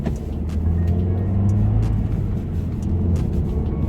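Mk2 Audi TT pulling away and driving up a road, heard from inside the cabin as a steady, loud low engine and road rumble with no talk.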